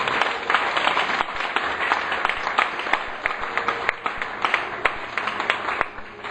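A church congregation applauds together, a dense, steady wash of many hands clapping for several seconds with a faint voice underneath.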